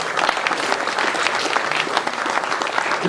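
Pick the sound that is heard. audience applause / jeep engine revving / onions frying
audience applause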